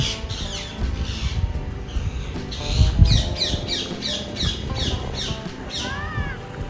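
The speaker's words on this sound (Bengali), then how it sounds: "চারিদিকে শুধু পাখির আওয়াজ টিয়া পাখি" Rose-ringed parakeets squawk repeatedly over a steady outdoor background, with harsh calls coming one after another at a moderate distance, near a large banyan tree in a village near Bishnupur.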